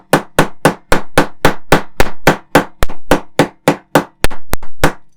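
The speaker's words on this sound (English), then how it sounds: "You might need a little bit of percussive force with a hammer" Steady, close hammer taps drive a rod into a 1:2 scale Xenomorph alien model kit, about twenty sharp strikes in a brisk regular rhythm, a few quicker light knocks near the end, no talk.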